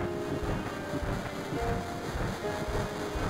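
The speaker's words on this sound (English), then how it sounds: "Just gotta move a few trains around here so we can get past all the debris." Train cars rumbling and clanking as they are shunted around a rail yard in Final Fantasy VII, a steady, continuous mechanical rumble with metallic rattling, fairly loud and heard alone.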